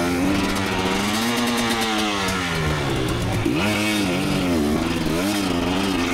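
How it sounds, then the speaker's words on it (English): A 2019 KTM 250 XC dirt bike engine revs loudly and continuously on an off-highway trail, its pitch rising and falling in repeated throttle bursts, close to the rider. "The old 2019 KTM 250 XC got a workout in this one."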